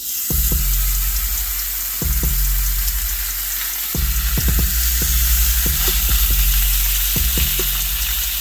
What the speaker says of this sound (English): So I'm gonna go ahead and lay the bacon in.